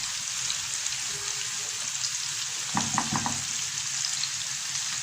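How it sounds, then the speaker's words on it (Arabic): Onions and peppers fry lightly in a pan for a chicken liver and gizzard dish, a steady close sizzle with a brief burst of crackling stirring partway through, no talking. "هنديلها بس تشويحه خفيفه كده على النار بالمنظر ده كده"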